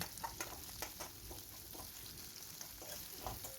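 Chopped onion and garlic fry in mustard oil with cumin, giving a soft, quiet sizzle broken by light scraping and stirring taps of a spatula in the pan; no talking.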